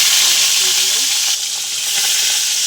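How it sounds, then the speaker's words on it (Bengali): Rohu fish rubbed with salt and turmeric fries in hot oil in a wok, a loud, continuous close-up sizzle with a brief dip partway through. "মাছ আমি একটা একটা করেই ভেজে নেবো।"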